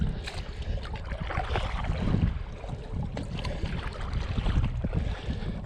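Stand-up paddle board paddling on Lake Balaton, with steady water splashes and sloshing under continuous outdoor wind noise buffeting the microphone, no clear individual strokes standing apart.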